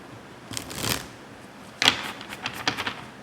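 Quick riffling bursts of a card deck being shuffled close by, a few separate flurries of papery flicking with soft pauses between.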